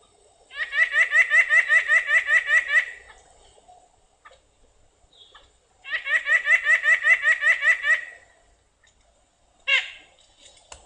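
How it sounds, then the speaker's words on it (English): Two bursts of rapid, nasal, repeated white-breasted nuthatch notes, each lasting a couple of seconds, followed by a single short call; clear and fairly close in quiet surroundings. "White-breasted nuthatch. Very nasally as well."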